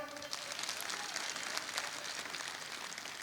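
Enthusiastic audience applause during a speech at a public event in Maharashtra, dense sustained clapping from a large crowd filling the air evenly with no gaps.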